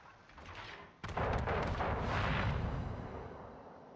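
Naval gunfire from a ship in the World of Warships video game, with a Yoshino firing: a sudden loud blast about a second in, followed by a sustained rumbling roar of overlapping shots and explosions that slowly fades.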